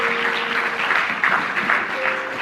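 A church congregation applauding the Lord in a steady burst of clapping from many hands, with a faint sustained tone underneath.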